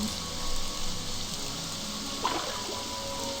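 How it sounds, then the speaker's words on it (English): Rain falling in the video game Morrowind makes a soft, continuous watery hiss, steady and fairly faint, with a small splash-like blip just past two seconds. "I can't catch the rain"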